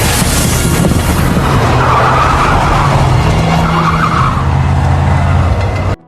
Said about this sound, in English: their car is shot and a tire is blown